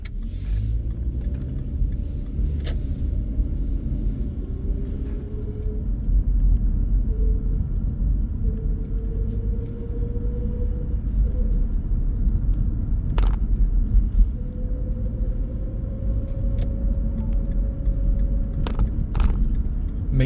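A car drives along a suburban road in Parsippany, New Jersey while making a left turn onto Farmingdale Drive, with a steady low engine and road rumble, a faint rising whine and a few sharp clicks or knocks.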